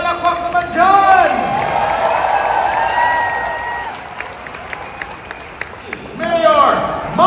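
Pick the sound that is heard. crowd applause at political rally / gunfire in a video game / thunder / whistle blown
crowd applause at political rally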